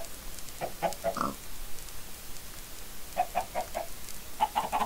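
Minecraft chickens cluck in short clustered bursts, a few quick notes at a time with pauses between, fairly faint over a quiet background.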